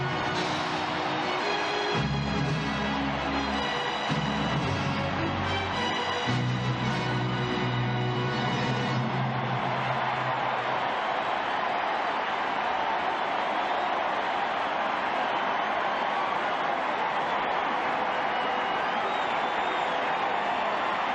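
Baseball crowd at Candlestick Park during the 1989 World Series Game 4, Athletics at Giants, roaring after Mitchell's drive to deep left field; a broad, sustained distant cheer builds and holds for many seconds without talk.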